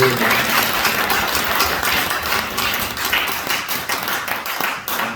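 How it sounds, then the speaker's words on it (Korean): A church revival meeting audience applauds in a large hall, giving a dense, sustained patter of many hands clapping that fades slightly toward the end. "우리 하나님께 영광의 박수 드리겠습니다"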